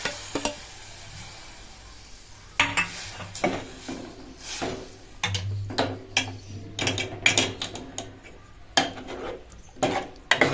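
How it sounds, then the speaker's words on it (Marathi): Chopped shevala vegetable is stirred into a hot tempering with asafoetida in a pan, giving a run of close, irregular metallic scrapes and clacks of a spoon against the pan over a faint low hum. "आता चांगले हलवून घेऊ जेणेकरून पूर्ण फोडणी मिक्स झाली पाहिजे"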